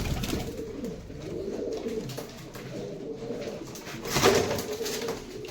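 Pigeons in a pigeon loft coo steadily and softly in overlapping low calls, with a slightly louder burst of cooing near the end and no talking.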